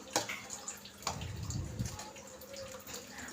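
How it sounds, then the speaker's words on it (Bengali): Chhena whey trickling through a mesh strainer into a bowl below, faint splashes and drips with a brief heavier gush, quiet and close. "এই জালির মধ্যে আমি তুলে নিলাম যাতে ছানা জলটা নিচে ছাঁকা হয়ে পড়ে যায়"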